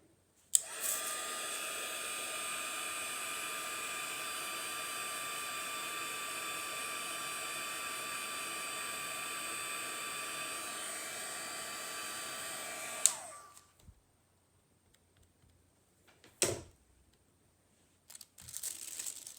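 A hair dryer runs on a steady, loud whoosh for about thirteen seconds while drying a freshly painted stem on a painting, then switches off, leaving near silence broken by a few light handling clicks and crinkles.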